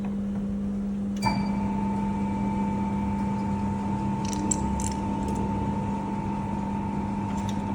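A Boston soft-serve ice cream machine hums steadily, with a sharp click as the pump starts dispensing ice cream into a cup and a few small clinks later. The tone is continuous and close, and nobody speaks.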